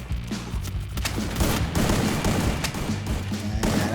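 Rapid gunfire from the mobile shooter Free Fire rattles off in quick bursts and overlapping shots, loud and close, with the volume dense throughout.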